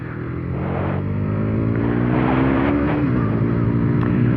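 A 2017 KTM Duke 125 ABS motorcycle engine revving high, a loud close buzzing whine that climbs steadily in pitch and holds at high revs, with no talking.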